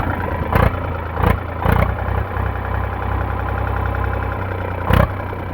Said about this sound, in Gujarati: એન્જિન સારું છે, વરાળ બરાળ નથી આવતી।